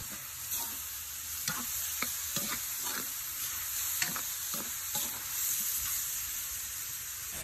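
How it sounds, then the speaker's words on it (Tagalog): Pig intestines fry in a pan while being stirred, giving a faint steady sizzle with scattered scraping and clinking from the utensil, and no talking. "Mekos-mekos para dili mapagod ang atong niluto."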